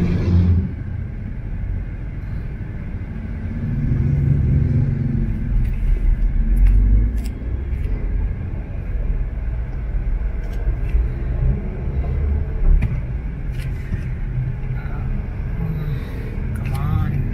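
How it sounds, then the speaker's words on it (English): A garbage collection truck rumbles steadily on a road ride through Talamban toward the City of Naga, Cebu, in the Philippines, its low engine drone continuous and close, swelling slightly midway, with passing traffic blending into the rumble. "On the back of a garbage collecting truck."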